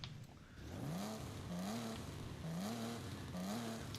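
A modified car engine sound in Forza Horizon 5 plays as a low, steady engine drone that climbs in repeated short revving sweeps, four rising pulses in a regular rhythm, fairly quiet.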